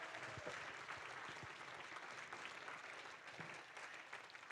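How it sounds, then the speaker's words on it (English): A steady wash of audience clapping for a choir at a carol service at Easneye carries on evenly at a fairly low level, with no voices over it. "So let's clap the choir again"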